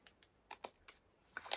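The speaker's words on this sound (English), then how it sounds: "So we're going to shuffle." A deck of thick, stiff playing cards is shuffled up close in a series of sharp, quiet clicks and snaps that end in a quick riffling burst.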